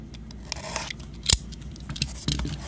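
Scissors or a blade cutting through heavy tape on a taped-up football card crate box, with sharp snips and scraping tears, one louder cut midway, close and without talking.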